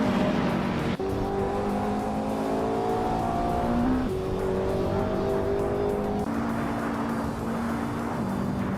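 Retro GT 500 race cars in a racing video game, engines droning loud and continuous with rising revs that shift and step through gear changes, tires squealing as cars jostle close together.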